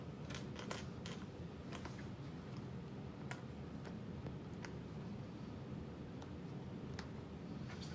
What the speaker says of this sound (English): just slowly clip out the zipper, kind of like we did those accent panels